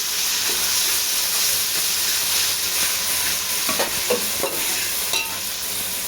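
Onion and ginger-garlic paste frying in a pot for egg biryani give off a steady, loud, close sizzling hiss, with a few soft stirring scrapes near the end.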